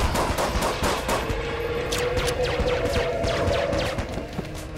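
Rapid bursts of gunfire from Enter the Gungeon crackle in dense, repeated volleys, with a sustained electronic tone running underneath the shots.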